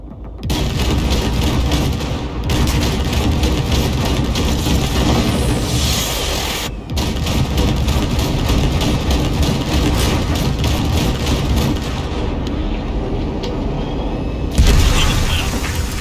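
Explosions blowing open a massive gate in Cyberpunk 2077, heavy sustained booming and rumbling with dense low-end roar lasting throughout, briefly cutting out twice before a final loud burst.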